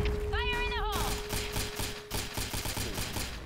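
Rapid bursts of video game gunfire crackle in quick succession, with a brief rising electronic tone early on, loud and close, continuing in a busy rattling rhythm.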